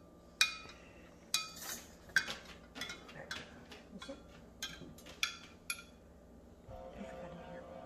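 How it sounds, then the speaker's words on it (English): Cheese being stirred in a metal pot, with a utensil scraping and clinking against the sides in a run of irregular close knocks, quieter toward the end. "Keep stirring it up a little bit."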